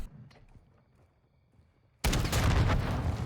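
KV Broadside shotgun fired in a video game: a quiet stretch with faint sounds, then a sudden loud blast with heavy low-end rumble that carries to the end as sustained gunfire.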